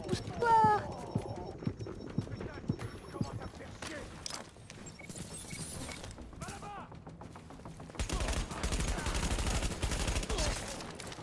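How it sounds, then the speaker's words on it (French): Submachine gun fire in Tom Clancy's The Division video game, with scattered shots early and a dense rapid burst near the end, mixed with game sounds and voices. "Un pistolet mitrailleur. Un mitrailleur."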